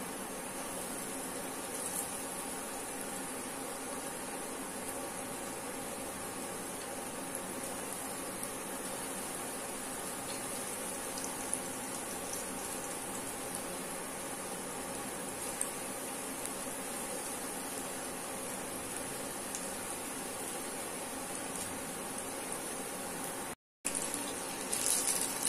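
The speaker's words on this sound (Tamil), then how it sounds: "இப்ப பக்கடா கொஞ்சம் கொஞ்சமா கிள்ளி போட்டுக்கலாம்." Paneer pakoda pieces fry in hot oil, giving a steady, even bubbling hiss that runs unbroken and moderately quiet, briefly cutting out near the end, with no voices.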